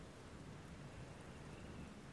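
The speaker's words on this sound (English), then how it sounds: "The rain hitting her windscreen had been coming down all day." Rain sound effect drumming on a car windscreen, a dense, even hiss of falling water filling the short moment with no pauses.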